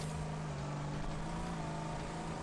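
Race car engine in the racing video game GRIP, a steady droning hum held at an even pitch and fairly faint, with no speech.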